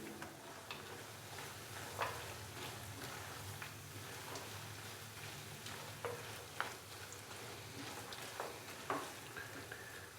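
Halwa with raisins and coconut being stirred in a pan, a soft steady frying sizzle broken by irregular scraping clicks of the spoon against the metal, close and fairly quiet, no voices.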